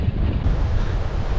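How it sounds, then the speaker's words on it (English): Strong wind roaring and buffeting into the microphone at a hilltop on an enduro mountain bike ride, a constant low rumbling blast with no let-up. "it's really windy."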